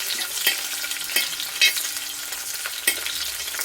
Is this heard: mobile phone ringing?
no